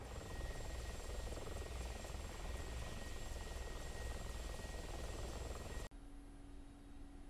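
Steady Mi-24P Hind helicopter rotor and engine drone in the DCS flight simulator game, loud and continuous, cutting abruptly to a quieter hum near the end.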